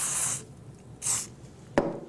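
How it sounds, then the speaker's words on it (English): UltraLube lubricant is sprayed into a rusty, dirty side cutter in short hissing bursts, two quiet sprays followed by a sharp metallic click from the tool. "take a little UltraLube and spray it in"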